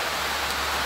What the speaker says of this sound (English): Rain falling, you understand?